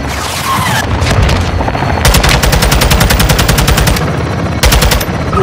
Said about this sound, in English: Let's get pre-assault fires on it.